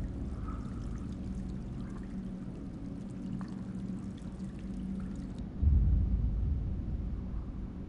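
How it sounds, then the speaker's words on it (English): Water pouring and trickling steadily in the game Man of Medan, leaking into a boat, a continuous splashy flow joined near the end by a louder low rumbling surge. "Oh, fun, it's leaking."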